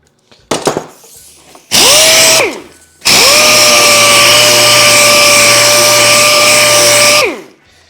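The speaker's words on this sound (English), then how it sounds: "Clean that up with the sander a little bit." A power sander works a chopped Model A roadster windshield in loud whirring bursts: a brief spin-up, a short run, then a long steady drone that winds down at the end, with no voices.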